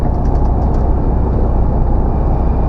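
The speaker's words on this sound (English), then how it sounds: "Use the engine brake, don't need to touch the brakes." A truck in the UK slows on its engine brake, giving a loud, steady low rumble and drone from inside the cab that carries on without a break.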